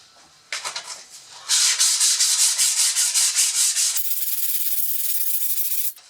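Sandpaper at 100 grit rubbing over the wooden handle of a vintage Craftsman double bit axe, close and loud, in steady rhythmic back-and-forth strokes after a few lighter starting passes, then a smoother continuous stretch.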